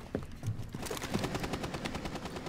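Rapid automatic gunfire sprays in Rainbow Six Siege, a fast, even stream of shots running throughout, heard from some distance and fairly quiet.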